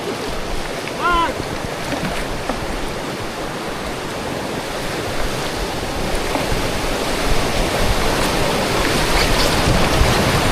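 Steady broadband rush of a jungle river waterfall near Bukit Lawang heard from a tube on the river, with rushing water and wind noise throughout and a brief voice near the start.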